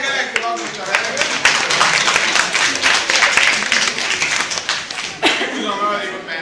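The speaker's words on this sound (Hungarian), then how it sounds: "Nagy tapsot a hőnek" Audience clapping at a science show at the Csodák Palotája science centre, a burst of applause rising under a presenter's voice and fading, with sharp hand claps and talk continuing over it.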